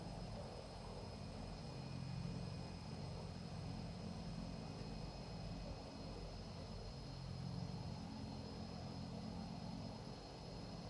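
A steady, even engine drone from an Aerosoft Super Typhoon jet in a flight simulator game holds constant without variation, moderately quiet and alone with no talk.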